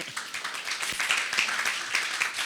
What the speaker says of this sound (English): I think he deserves a round of applause right now.